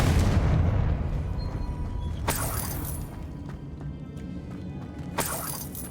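A Confringo fire spell detonates in Hogwarts Legacy, a loud booming blast with crashing debris that decays into a rumbling tail, followed later by a second sharp burst.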